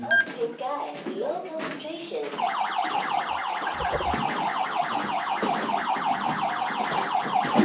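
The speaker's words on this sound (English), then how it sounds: "Low air sensor was going off." A low air alarm on a mine air monitor deep in an underground mine beeps in a rapid, steady repeating pattern, loud and close, continuing without a break after a few seconds of shuffling noise.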